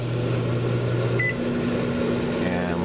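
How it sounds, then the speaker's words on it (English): A microwave oven runs close by with a steady, even hum and whir, its drone shifting slightly in tone partway through and continuing without interruption. "We are going to set it here in the microwave."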